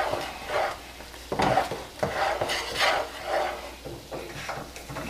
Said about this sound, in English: And you're just going to stir it in there.